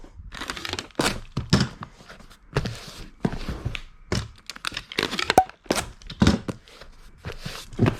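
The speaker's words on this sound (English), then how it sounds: "I'm going to just get it all taped up" Packing tape is pulled and pressed onto a cardboard shipping box of women's Rockport shoes, making irregular close ripping and crinkling bursts with soft thumps and brief pauses between strips.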